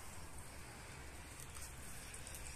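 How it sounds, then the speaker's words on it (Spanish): Steady rain falls in a continuous, even hiss, very faint and distant, with no other sounds standing out. "Por fin llueve."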